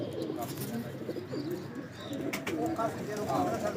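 Breeder pigeons of an old original breed coo softly in a loft, low throaty calls repeating with faint chirps and some background voices.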